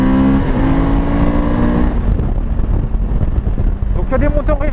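Suzuki V-Strom 1000 XT motorcycle engine under way, a loud, near, steady rumbling drone with rising and falling revs, mixed with wind rush and a rider speaking over it.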